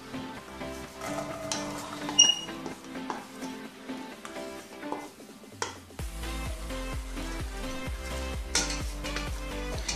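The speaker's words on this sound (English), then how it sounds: "And then we're going to fry the onions." Onions frying in hot oil in a pan over high heat, with a steady sizzle along with clinks and scrapes of a utensil against the pan.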